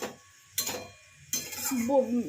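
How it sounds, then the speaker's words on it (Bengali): Salted bottle gourd stirred in a pan: a few short bursts of utensil clatter and scraping against the pan, close by, with a voice speaking near the end. "নুন দিয়ে একটু নাড়িয়ে দিলাম"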